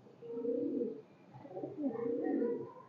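High-flyer Kaldom pigeons at a pigeon market coo in low, throaty rolling phrases, two close bursts separated by a short pause, loud and near.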